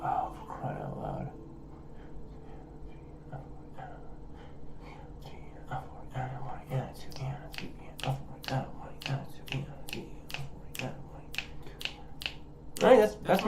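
Finger snaps keep a steady beat for a song being built in a two-hour album challenge, sharp clicks repeating in an even rhythm with quiet talk and soft vocal sounds underneath.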